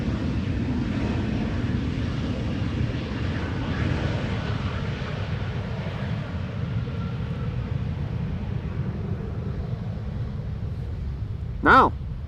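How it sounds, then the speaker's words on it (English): A KLM Embraer 190 arriving at Amsterdam Schiphol from Helsinki produces a steady, moderate low jet rumble that continues throughout, with a short sharp tonal blip near the end. "Embraer 190 arriving from Helsinki, KLM flight 1166."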